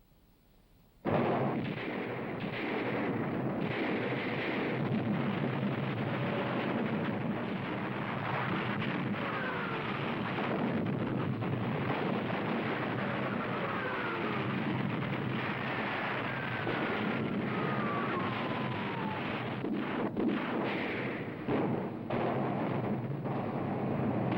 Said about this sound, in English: As planned, the British guns opened fire at exactly 9:40.